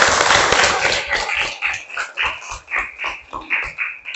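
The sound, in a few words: group applause in a classroom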